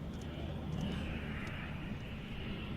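An aircraft arrives to land on runway 27 at the Royal International Air Tattoo, heard as a steady, fairly faint engine drone throughout with no clear change in level.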